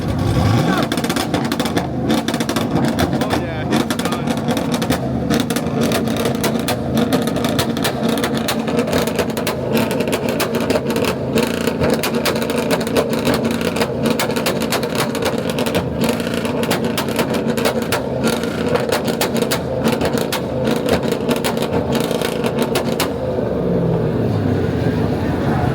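A Chevrolet Silverado truck engine held on a two-step launch limiter at a rev battle competition crackles in a dense, rapid, loud barrage for over twenty seconds before cutting off abruptly, with voices mixed in.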